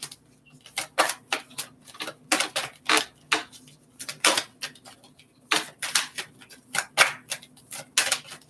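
Tarot cards are shuffled close up in a series of quick crisp riffling bursts separated by short pauses, fairly quiet and without talk.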